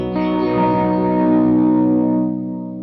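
A sustained electric guitar chord through a BOSS TE-2 Tera Echo pedal rings out with repeating echoes and a washy effect, fading toward the end, loud and close.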